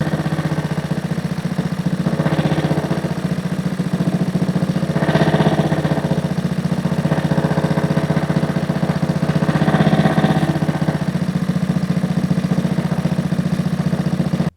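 A Honda HRR216 lawnmower engine running warmed up after an auto choke and carburetor fault, holding a steady mid-pitched idle with slight surges in intensity, loud and close throughout.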